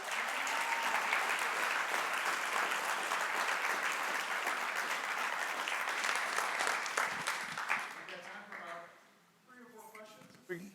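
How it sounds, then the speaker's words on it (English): Audience applause at a photography talk by a photographer: loud, steady clapping from a full room that rolls on for about eight seconds, then thins out, with a few scattered claps and a voice coming in as it dies away. "First off, round of applause."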